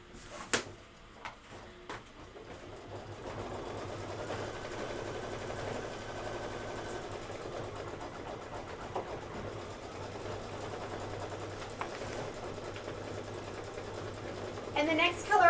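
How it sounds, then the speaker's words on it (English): Embroidery sewing machine stitching out a candy corn shop design: a steady, close mechanical whir of stitching that runs throughout, with a few clicks near the start and a faint voice underneath. "I'm going to go ahead and hit start, let it stitch that out."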